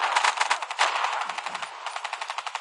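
Rapid automatic gunfire from a Black Ops 3 match, a dense, steady stream of loud repeated shots continuing for the whole stretch with no talk over it.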